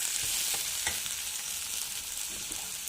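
Chopped onions and green chillies fry with cumin in a hot pan, a close, even sizzle with soft stirring scrapes and small crackles running continuously, no talking.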